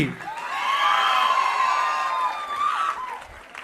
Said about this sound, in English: A huge round of applause for the Tollywood performance by our Department of Physiotherapy.